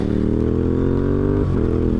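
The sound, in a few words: parallel twin motorcycle engine revving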